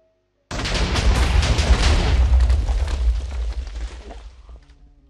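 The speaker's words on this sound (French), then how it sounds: "donc vous allez voir, ça explose." A powerful TNT blast from a minecart cannon in the game Minecraft, one sudden loud booming explosion after brief silence that rumbles on and slowly fades over several seconds, with no voice.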